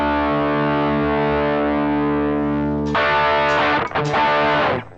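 An electric guitar plays through a DIY clone of a Way Huge Red Llama overdrive pedal, with a sustained distorted chord ringing out, then a louder, brighter strum and a few choppy hits before it cuts off.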